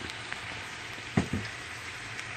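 Collard greens hit a hot pot and wilt, giving a soft, steady sizzle with a couple of brief louder crackles and thumps as the leaves go in.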